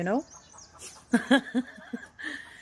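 Several chickens cluck in short, uneven bursts at moderate distance, with a few louder squawks standing out over a quiet background.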